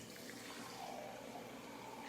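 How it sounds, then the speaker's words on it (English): Water poured into a measuring container for a plaster hand-casting craft, a steady, close splashing pour running continuously throughout. "measure out 6 cups of water to put inside."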